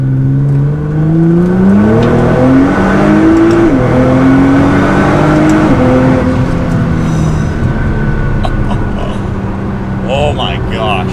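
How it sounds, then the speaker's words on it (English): An R35 Nissan GT-R pulls hard in sixth gear on the highway, its engine note climbing steadily in loud continuous acceleration with wind and road roar building underneath. "In sixth gear on the highway, I can give it gas and the car takes off."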